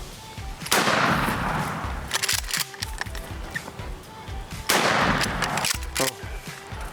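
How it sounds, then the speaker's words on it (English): Two loud, sharp gunshots ring out during a turkey hunt outdoors, about four seconds apart, each with a booming echo that fades, followed by rustling and movement. "Just put the bead on his head, okay? Take your time, shoot him."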